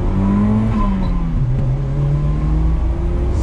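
A 1994 Toyota Celica GT-Four pulling away in first gear, its engine droning loud and close with a steady humming tone that rises, dips briefly, then climbs again as it accelerates.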